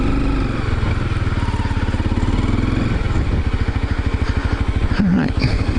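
A Honda CRF250L dual sport motorcycle's single-cylinder engine chugs close by with a rapid, even thump as it rolls slowly into a hillside camping spot, the putter steady and loud with slight revving near the end.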